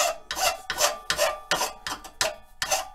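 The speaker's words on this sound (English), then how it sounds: "And then for the finish, the real fine file" A fine file rasps across a handmade wooden drumstick in about seven steady back-and-forth strokes, close and distinct, with no talking.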